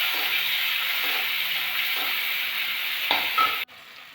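Tomatoes added to onions already frying in oil sizzle with a steady hiss while being stirred for a home-cooked khesari dal, ending in an abrupt quieting near the end.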